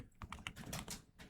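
Quick bursts of keystrokes on a computer keyboard, several clicks tapped in an uneven rhythm over a second or so, close and quiet with no talk.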